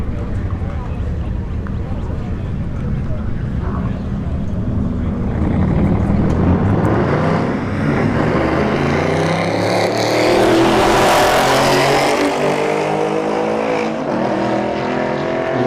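An Audi S4 drag racing car speeds down the strip with a loud, rising engine roar that swells as it passes close and then tails off, while a commentator talks over it.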